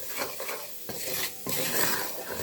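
A butter and flour roux is stirred in a sauté pan, giving close scraping and swishing strokes of a utensil against the metal, with a faint sizzle underneath.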